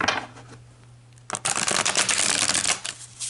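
Tarot cards riffled and shuffled by hand, a quiet rustle at first and then a steady run of dense, crisp card flutters close by, with no talk.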